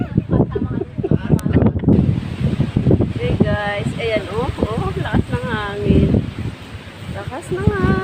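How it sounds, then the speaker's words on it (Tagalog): Strong outdoor wind in Nasugbu, Batangas rushes and buffets the microphone steadily while people talk over it throughout. "Lakas ng hangin po sa labas."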